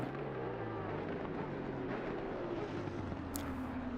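Maserati and Lamborghini GT2 race cars in a sim-racing sprint race at Monza: a steady engine drone with a slowly falling pitch, loud and continuous, as if accelerating out of a corner.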